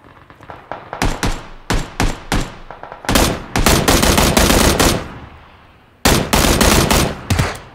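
Gunfire in the PUBG battle royale video game, loud close bursts of automatic and single shots in several clusters with short gaps between, the final burst following a brief fading lull.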